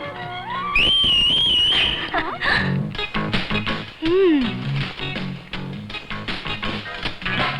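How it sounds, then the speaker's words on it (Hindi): Men whistle at girls passing by in a Hindi film scene: a wavering, melodic whistle rises clearly over background music near the start, followed by further music and sounds. "इनकी इतनी हिम्मत कि हमें देखकर सीटी बजाएं।"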